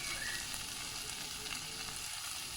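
Salted tomatoes cook in a pan on the stove, giving off a constant, even sizzle that stays close and fairly quiet, with no talk over it.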